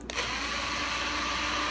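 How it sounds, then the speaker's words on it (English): A power drill starts up and whirs continuously at high speed, loud and close, as it bores a hole in a white Squier Stratocaster guitar with a steady grinding whine. "and drill a hole."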